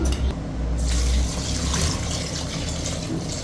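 Water splashes and gurgles steadily into a pot for jackfruit biryani, a continuous close pour with a low rumbling fill and no talking.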